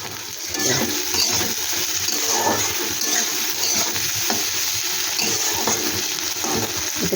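Filling for kunchi rolls fries in a pan with a constant close sizzle, broken by light scraping and stirring clicks throughout.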